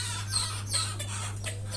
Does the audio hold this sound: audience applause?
no